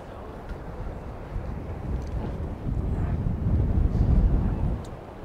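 Cold north wind at Artist Point on the lakeshore in Grand Marais, buffeting the microphone in a low, rumbling roar that swells toward the end, with no speech over it.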